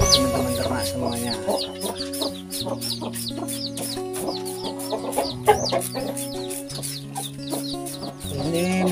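Many chickens cluck continuously inside a chicken coop, with close, overlapping calls in an irregular rhythm. Steady background music plays underneath.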